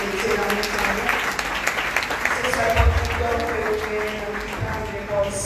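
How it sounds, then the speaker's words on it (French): A church congregation applauds during Sunday worship, steady clapping mixed with crowd murmur, voices and a low thud, at a constant moderate level. "un applaudissement pour vous"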